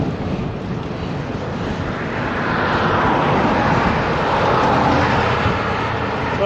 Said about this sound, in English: Square into the headwind.